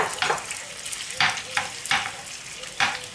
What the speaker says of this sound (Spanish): La vamos a pasar, la vamos a sofreír un poquito y luego reservamos.